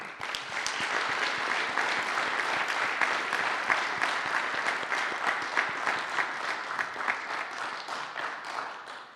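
Sustained applause from an audience at a book club night with musicians and authors, an even wash of clapping lasting the full stretch.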